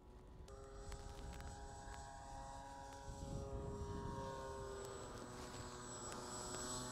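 A balsa Spitfire radio-controlled model plane flies overhead, its propeller engine giving a steady buzzing drone that swells slightly as throttle increases, heard alone in the open.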